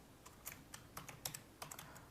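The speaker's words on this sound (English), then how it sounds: "I am typing these text now for showing you guys" Keystrokes on a computer keyboard while entering text into an Android Studio weather app, a light irregular patter of about a dozen close, quiet clicks in short bursts with no voice.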